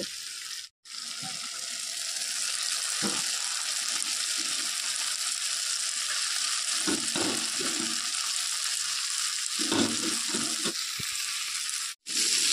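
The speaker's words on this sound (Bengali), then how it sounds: "কচু আর শাক একসাথে ভালো করে কষাতে থাকবো" Taro and leafy greens being stir-fried in a pan with a hilsa fish head, a steady loud sizzle running throughout with occasional scraping stirs and brief pauses.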